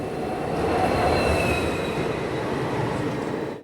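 Tista Torsa Express passenger train running on the line between Sealdah and NJP, with a steady loud rumble of wheels on rails and a thin metallic squeal riding above it throughout.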